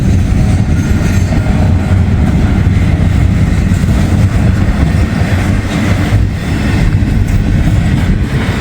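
An intermodal freight train rolls past close by, a loud continuous rumble with clickety-clack of wheels over rail joints and occasional faint wheel squeal, no voices.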